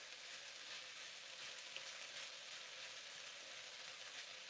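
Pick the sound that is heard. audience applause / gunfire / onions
onions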